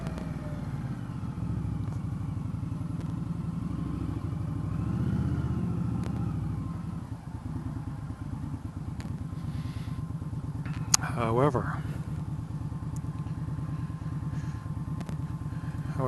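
A motorcycle engine hums and rumbles steadily while riding in a city bus lane through traffic, with a brief sharp squeal near the end and a voice speaking over it.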